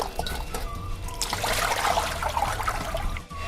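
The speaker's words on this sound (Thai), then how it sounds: "ล้างเสร็จแล้วนะครับ เราก็เทน้ำออกเลยครับ" Water splashes and trickles steadily as rinse water from washing tilapia is poured out of a basin, a continuous close-up gush with faint dribbling, no voices.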